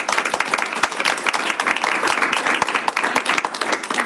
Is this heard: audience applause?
yes